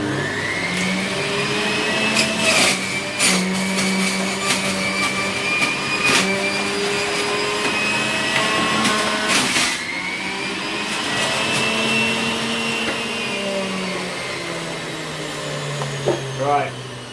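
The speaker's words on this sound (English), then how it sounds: "So let's start juicing." A juicer grinding carrots, celery and cucumber runs with a steady, loud motor whine and rattling chunks, interrupted by sharp crunching bursts as pieces are fed in, with some talk faintly underneath.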